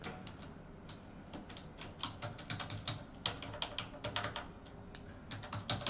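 Someone types on a computer keyboard while filling in an online UP scholarship form, giving a run of close, crisp key clicks in uneven bursts with short pauses, no speech.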